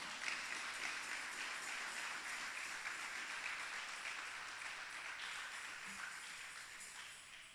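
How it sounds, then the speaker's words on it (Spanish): Congregation applauding during a church sermon, a steady wash of many hands clapping at moderate distance, continuous and fairly even throughout with no talk over it. "dele palmas al Rey"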